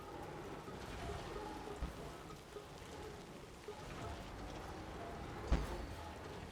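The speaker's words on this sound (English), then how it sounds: "the rain is not helping." Steady rain falls throughout a driving video game, a dense even hiss with a few louder spatters and one sharp crackling burst near the end.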